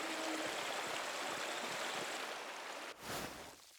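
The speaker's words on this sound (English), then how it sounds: "The waterfall must flow down from the snowmelt in the mountains above the abbey." Waterfall flowing in the video game Pentiment, below mountains above an abbey: a steady broadband rush of falling water, moderately loud and continuous, with a brief dip and surge near the end.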